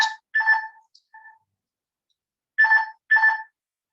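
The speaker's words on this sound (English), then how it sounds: "My phone's going" A phone ringtone sounds during an online bridge pairs game, with two-tone electronic ring bursts: two close together, a short faint chirp, then a pause and two more loud bursts, with no talk.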